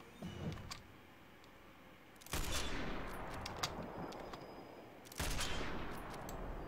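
Gunfire in the video game Sniper Elite 4: sharp single shots ring out with long decaying echoes, two heavier blasts several seconds apart standing out over quieter clicks and ambient noise.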